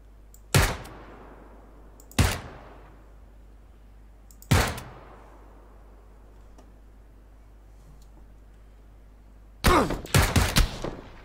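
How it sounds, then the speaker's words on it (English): Red zone bombardment in PUBG. Three loud, sharp blasts land several seconds apart, each trailing off into a fading rumble, then a quick cluster of heavy explosions near the end. "the bombs are about to start dropping"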